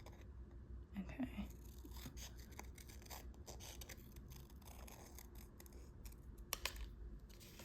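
Scissors snip through paper as pictures are cut out for a journal, soft close crunching and rustling cuts over a low steady background, with a couple of sharper snips near the end.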